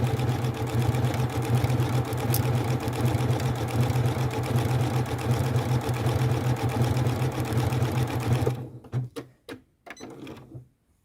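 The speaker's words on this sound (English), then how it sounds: "I'm going to now stitch that out." Janome sewing machine stitching a hand-look quilt stitch with the tension raised to 8: a steady, close mechanical whir running for about eight seconds, then stopping, followed by a few clicks and handling sounds.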